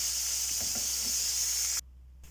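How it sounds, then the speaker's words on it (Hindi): Steady hiss of onions frying in a pan, with faint stirring clinks, cutting off abruptly near the end. "प्याज़ों को भी मैं हल्का सा ब्राउन करूँगी।"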